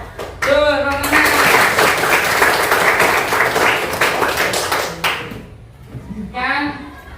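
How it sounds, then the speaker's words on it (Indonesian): A classroom of students bursts into applause, a dense burst of hand clapping lasting about four seconds, bracketed by voices speaking before and after. "Tuh, tepuk tangan."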